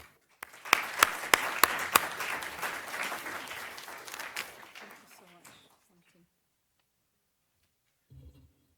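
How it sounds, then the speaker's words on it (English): A lecture audience breaks into a round of applause, starting with a few sharp individual claps that swell into full clapping, then fade to silence before a brief murmur near the end. "I think we'll give you a round of applause before you even start."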